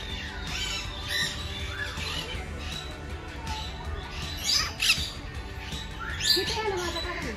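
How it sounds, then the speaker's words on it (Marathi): Parrot squawks burst out intermittently over a busy background of chatter and rustling at a bird park in Mumbai, a few sharp calls standing out near the middle and end. "हा कोणता पोपट आहे?"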